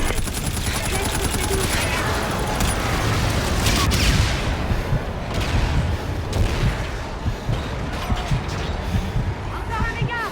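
Rapid bursts of automatic gunfire crackle amid explosions and a dense, chaotic battle din in Call of Duty: Infinite Warfare, with voices calling out in French over the noise.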